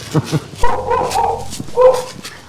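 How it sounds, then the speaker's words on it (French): A dog yelps and whines with a few short barks, fairly close and moderately loud, in a quiet room. "On entend les chiens. Il est à l'intérieur."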